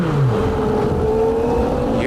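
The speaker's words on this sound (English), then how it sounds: "It broke as we were in car with Sullivan, under braking, and finally it coughs enough" CART race car engine at Road America in 1993, an onboard drone that holds a steady loud pitch and then wavers and sags as the engine fails under braking, with no speech.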